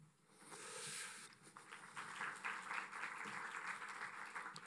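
Thin, scattered applause from a small crowd, fairly faint and short-lived, tapering unevenly.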